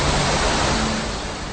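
Water rushes steadily through a dam's overflow basin in Bern, Switzerland, a loud, unbroken broadband roar that holds constant from start to finish with no voices.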